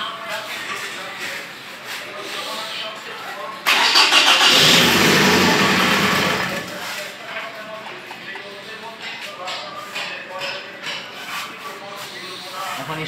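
A car engine is cranked over in a single start attempt that fails to catch, a loud broadband grinding burst of about two and a half seconds standing out against quieter background noise and talk.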